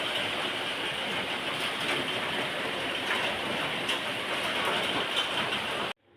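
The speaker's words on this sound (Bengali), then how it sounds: "কত জোরে বৃষ্টি হচ্ছে দেখো এবছর মনে বৃষ্টিই থামবে না" Heavy rain pours down in a steady, dense hiss that holds at an even level throughout before cutting off abruptly at the end.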